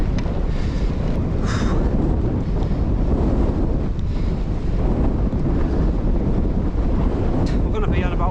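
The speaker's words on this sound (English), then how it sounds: "That headwind was brutal there" A strong headwind buffets the microphone in loud, continuous roaring gusts during a ride outdoors, with a brief voice over it.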